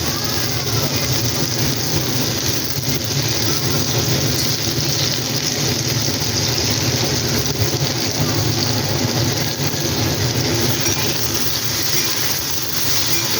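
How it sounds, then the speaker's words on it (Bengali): Spiny gourd (kakrol) fries in oil alongside potatoes in a pan for a Bengali mixed vegetable dish. A dense, continuous sizzle holds steady and close throughout, with no voices. "কাঁকরোলটাও ভালো করে ভেজে আলুর সাথে ফিরছি"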